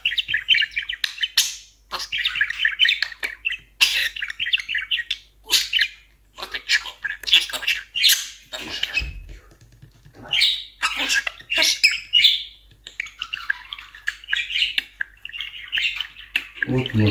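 A parrot squawks and chirps in repeated bursts at close range, with sharp calls and short pauses between them.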